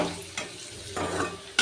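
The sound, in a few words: chopped onions frying in oil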